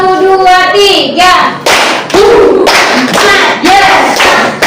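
Children in an elementary school class clap hands together in short bursts, with a brief one-clap group followed by quicker rhythmic clusters, loud and close, as a group clapping exercise led by a teacher.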